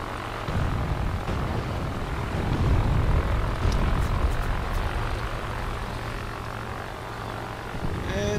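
A P-12 propeller biplane drones loud and steady in World of Warplanes, a continuous throbbing engine roar that holds for the whole stretch with only slight swells and no voices.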